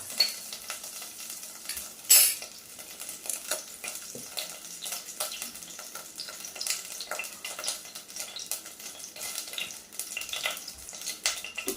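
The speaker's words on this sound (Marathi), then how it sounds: "आतां पळोवेता तेल तापिल्लें आसा तांतू सासम घालता हांव" Mustard seeds sizzling and crackling in hot coconut oil for a traditional GSB cluster fig sukka, a soft steady hiss with scattered small pops and one louder burst early on, close and quiet, no speech.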